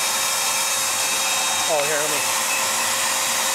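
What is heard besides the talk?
bee vacuum running with suction during bee cutout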